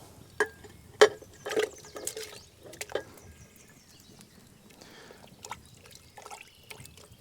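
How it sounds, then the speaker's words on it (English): Smoked, aged ribs are dunked into water at a winter bushcraft camp: a few distinct splashes and sloshes, then soft drips and trickles fading into near quiet. "So we'll dunk them in the water as well."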